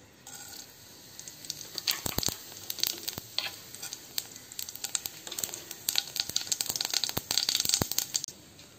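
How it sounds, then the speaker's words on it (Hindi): Cumin seeds hitting hot oil for dum aloo, crackling and popping in sharp bursts over a low sizzle, growing busier and louder toward the end, close by with no talking. "तेल गर्म होते ही इसमें हम डालेंगे जीरा"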